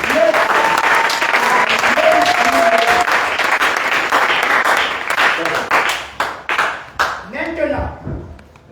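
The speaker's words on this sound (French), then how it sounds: "Est-ce qu'on peut acclamer le prophète Patrick?" A church congregation applauds loudly and warmly for several seconds. The clapping breaks into scattered claps near the end, with voices mixed in the crowd.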